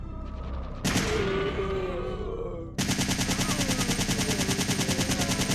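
Gunfire from a gun in the video game Resident Evil 3 Nemesis, with a single blast followed by a rapid, loud, evenly spaced burst of shots filling the second half.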